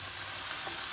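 Chicken liver for chopsuey sizzles as it is stirred in a hot pan, a short burst of close, steady frying hiss with a faint scrape.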